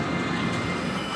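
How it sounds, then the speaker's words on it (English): A roller coaster train on the Hyperia ride rolls steadily past with a dense, loud rumble of wheels on track, continuous and close with no talk over it. "it's literally hit the brake run and the next train's coming out"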